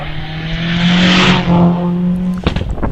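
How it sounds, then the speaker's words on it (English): A Mitsubishi Evo 5 four-wheel-drive turbocharged rally car blasts up a hillclimb course through Farmhouse Bend, its engine roaring loud and close with a steady high-revving tone before a sharp crackle and change near the end. "the beautiful little Mitsubishi Evo 5"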